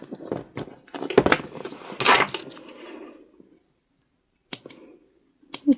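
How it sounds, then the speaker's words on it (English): Scissors snip repeatedly at loose threads on a hand-sewn leather bag, a cluster of sharp close cuts followed by a pause, then a few more crisp snips. "Trim those threads up."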